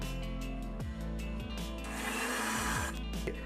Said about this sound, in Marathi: आता आपले मिक्सरचे भांडे बंद करून मिक्सरमधून आपले कीटनाशक बारीक करून घ्यायचे आहे।